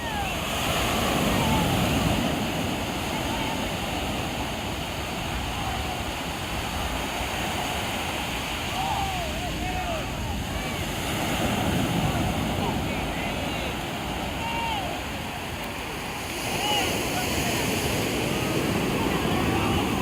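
Waves roll and break continuously on the shore at Salido Beach, Pesisir Selatan, a broad surging roar with gusts of wind buffeting the microphone.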